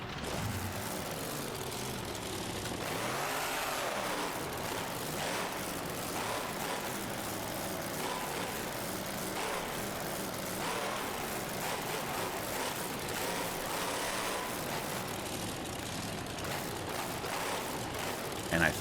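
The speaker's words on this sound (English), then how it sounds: "And I think these are the right engine sounds as well." A monster truck engine with downsweep headers revs in BeamNG.drive at a crush-car track, a loud, continuous throaty roar with rising and falling pitch sweeps, steady throughout with no talk over it.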